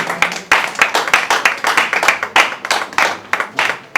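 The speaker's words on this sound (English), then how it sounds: "Please clap for her." Audience at a book launch in Ghana claps after a copy sells at auction, a loud run of quick, uneven hand claps from a small crowd close by, with scattered voices underneath.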